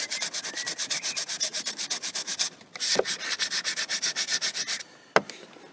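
A wooden frame is hand-sanded in fast, even back-and-forth strokes: a long rhythmic run, a brief pause with a knock, another steady run, then a sharp tap and quiet at the end.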